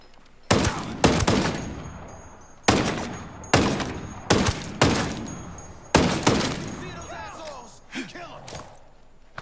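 Heavy gunfire in the video game Ghost Recon Breakpoint, loud close bursts of rapid shots in several separate volleys with short pauses, some rounds striking scenery with sharp impacts.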